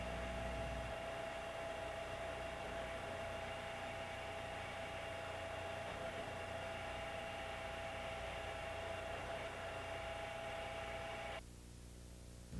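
A Davenport Model B screw machine runs a workpiece with a steady, loud mechanical drone and a constant high whine that continues evenly until it drops away near the end.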